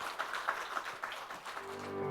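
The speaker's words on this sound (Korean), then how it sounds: "박수로 한 번 더 영광 돌리겠습니다." A church congregation claps in applause at the close of a Sunday service, a dense, steady patter of many hands lasting a couple of seconds, with a sustained musical tone entering near the end.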